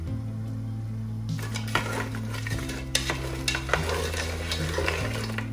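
Seafood sizzles in a pan of butter and olive oil, a bright steady frying hiss that swells after the pieces go in, joined by close metallic clinks and scrapes of a utensil against the pan, with no talking.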